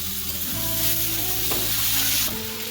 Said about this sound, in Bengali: এবার আমার পেঁয়াজ ক্যাপসিকাম লাল লাল করে ভাজা হয়ে গেছে, এর মধ্যে আমি এবার বাঁধাকপিটা দিয়ে দিলাম।